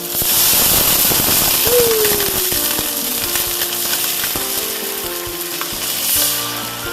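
Onions and garlic sizzle loudly in olive oil as white wine is poured into the hot pan, a steady close frying hiss with a brief rising squeal and bursts of crackle, no talking.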